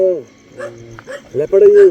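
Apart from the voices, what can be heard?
dog barking at night in village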